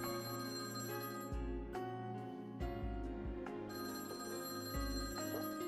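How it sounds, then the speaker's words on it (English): A telephone bell rings in a visual novel's night scene, shrill repeated rings over a steady bed of background music, no voices. "the silence was broken by the sound of the phone ringing"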